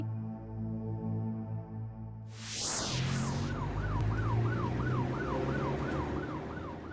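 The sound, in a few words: ambulance siren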